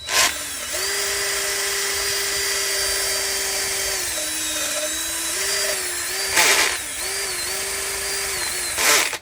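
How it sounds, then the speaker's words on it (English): A power drill whirs steadily at low speed cleaning Chevy LS engine valve and timing covers, its tone wavering slightly, with two brief bursts of higher-pitched grinding near the middle and end. "I got the drill turned way down"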